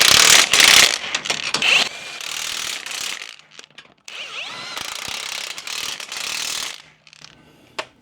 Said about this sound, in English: put those bolts in, then tighten the whole thing down